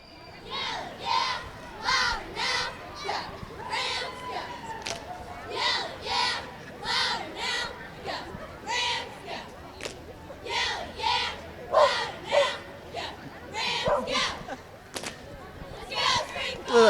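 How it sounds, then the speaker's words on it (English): Seventh and eighth grade cheerleaders shout a rhythmic cheer at a spring homecoming parade, with short chanted bursts repeating in a steady beat, heard from some distance outdoors amid light crowd noise. "Looks like are they getting ready to do a cheer for us?"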